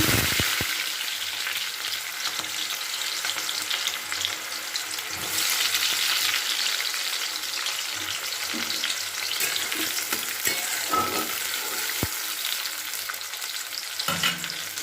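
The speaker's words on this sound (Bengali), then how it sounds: "এখানে কড়াইতে তেল গরম করতে দিয়েছি কালো জিরে ফোড়ন দিয়ে দিয়েছি একদম রেডি করে এবার আমি প্রথমে পেঁয়াজ দিয়ে দিচ্ছি" Sliced onions frying in hot oil tempered with black cumin (kalo jeere) in a wok: a loud, continuous sizzle with occasional stirring scrapes and taps, no voices.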